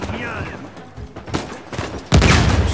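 Bursts of rapid gunfire and a loud blast near the end in Uncharted 4: A Thief's End, sharp and close, with a voice partly mixed in.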